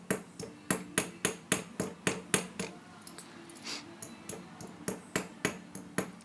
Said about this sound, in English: I'm going to keep hammering down till it gets nice and flat towards the bottom of my pendant.